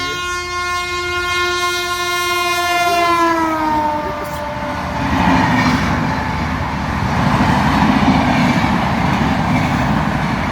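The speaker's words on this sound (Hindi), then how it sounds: "जैसे ये देखो सामने ट्रेन आ रही है।" A train on an international railway line near Amritsar sounds a long horn as it approaches, then rumbles and clatters steadily past on the track at close range.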